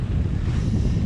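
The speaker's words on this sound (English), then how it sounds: "Yeah, we've got some strong wind coming up." Strong wind on a sailboat off the Isles of Rum, Scotland, buffets the microphone in a steady, loud low roar, with a rushing hiss over it and no voices.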